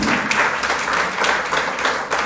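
Crowd at a political rally in Karnal breaking into sustained, dense applause, loud and continuous with steady clapping throughout.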